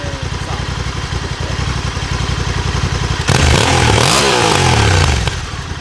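Honda Africa Twin 1100 Adventure Sports motorcycle riding off-road, its engine chugging in a rapid steady pulse, then rising into a louder, rougher revving roar with clatter, close and loud throughout.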